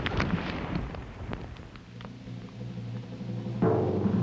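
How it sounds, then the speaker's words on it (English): A distant underwater blast set off on a shipwreck deck in sand, heard as a dull muffled boom and rumbling roar that settles into a low murmur, then a second surge of rumble near the end. "The first explosion had lifted the aft portion of the deck to give us a better look."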